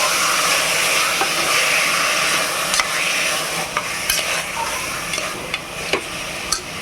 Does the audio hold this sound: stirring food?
yes